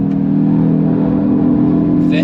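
A RaceChip-tuned Hyundai i20 N pulls hard under throttle on the Nürburgring, a steady in-car engine drone holding loud and close across the whole stretch.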